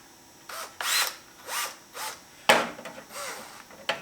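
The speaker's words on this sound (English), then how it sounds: "Go ahead and reamer all the way out. Keep the hole nice and straight." A Neiko titanium step drill bit reams out a 1 3/8 inch hole, cutting in several short, separate bursts of whining, grinding bites with brief pauses between them.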